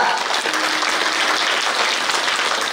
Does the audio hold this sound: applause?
yes